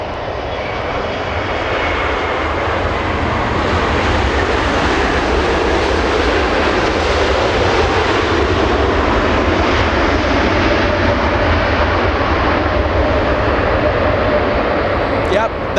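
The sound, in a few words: China Airlines jet with GE90 engines, loud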